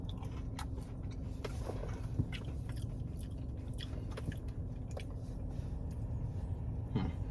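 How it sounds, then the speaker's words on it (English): Crunchy garlic cheddar bites, breaded and golden brown bowling alley food, are bitten and chewed up close, with repeated crisp crunches and soft moist chewing throughout, no talking. "Let's bite into it."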